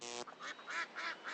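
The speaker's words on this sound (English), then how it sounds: "Now this is a group of young ducks." Several young ducklings quack in short, repeated bursts, near and moderately loud, with brief pauses between calls and no talking.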